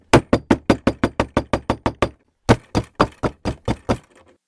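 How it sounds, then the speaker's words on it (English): Knocking on a front door: two runs of sharp, evenly spaced raps, about eleven in a steady fast rhythm, a short pause, then about seven more, loud and close with no voices. "it was the knocking he continued to hear on his front door"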